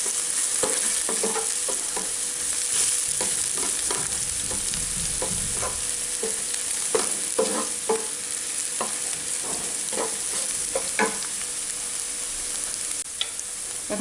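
Whole cumin and dried red chillies sizzle steadily in hot oil over reddened onions for a dum chicken dish, punctuated by the scrape and clack of stirring.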